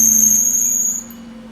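A 2005 Hyundai Accent's engine belt screeches with a loud, steady high-pitched squeal over a low engine hum, close by and briefly alone.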